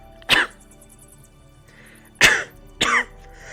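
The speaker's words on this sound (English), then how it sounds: "undergoes one of those very heavy coughing fits again" Three harsh, heavy coughs burst out close and loud in a rasping fit, one early and two in quick succession later, with near silence between them.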